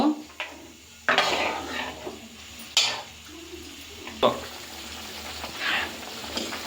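Soaked tamarind pulp added to a pot of simmering curry, with clanking pot and utensil knocks, sharp metallic taps and a soft bubbling sizzle between them, fairly close and moderately loud.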